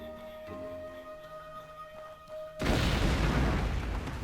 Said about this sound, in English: The sound of an explosion rocks the air and makes the ground tremble beneath your feet.